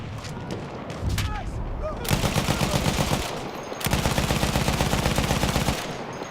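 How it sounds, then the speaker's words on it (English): Gunfire in the video game Battlefield 1, long rapid bursts of machine-gun fire pounding in a steady, loud rhythm, broken by a brief pause, with a voice speaking before the shooting starts. "Someone's shooting at me."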